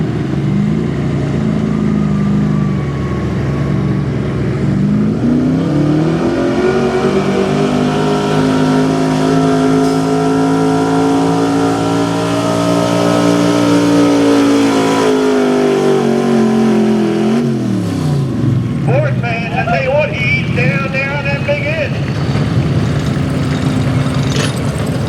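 A pulling truck's engine roars hard at the Lebanon truck pull, holding a loud sustained rev that climbs and then drops away near the end, followed by a rougher rattling note.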